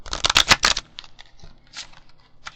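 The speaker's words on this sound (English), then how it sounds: "I'm going to have to shuffle these up pretty good because I've never used them" A crisp, brand-new deck of oracle cards being shuffled by hand, starting with a rapid flurry of close riffling snaps, then softer scattered card slides and taps.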